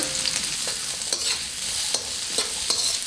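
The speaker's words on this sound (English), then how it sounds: "then we get the oil hot, and then we are going to drop in the onions." Onions sizzle in hot oil in a pan for a Southern fried cabbage dish, a steady loud hiss close up, broken by a few sharp stirring scrapes.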